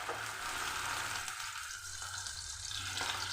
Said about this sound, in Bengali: ওই মাছ ভাজা তেলের মধ্যেই আমি দিয়ে দিচ্ছি। মাছ ভাজা তেলেই আমি রান্নাটা করব